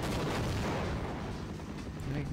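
An explosion booms in the video game Half-Life, a loud, dense rumbling blast that fills the moment and slowly tails off.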